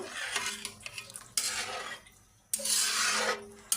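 A spatula scrapes and stirs a watery hilsa fish curry gravy in a pan, close and fairly loud, in several long strokes over a gentle simmering sizzle, with no voices.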